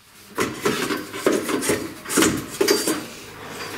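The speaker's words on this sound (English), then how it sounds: "So I got some Scotch Brite pads and I'm gonna have to clean this" Rhythmic scrubbing of a Scotch-Brite pad over surface rust on a metal roll-cage piece in a driveway, about six firm back-and-forth rasping strokes, close and alone.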